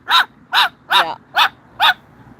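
A dog barks five times in a steady, evenly spaced rhythm, loud and close, with no other sounds around it.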